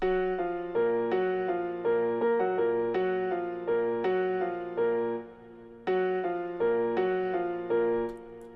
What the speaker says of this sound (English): I added an octave up. So in the intro,